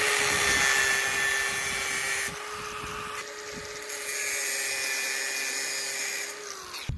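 A power tool cuts steel for axle brackets on an Australian farm, giving a sustained close, high-pitched grinding whine that shifts in tone partway through and cuts off abruptly at the end.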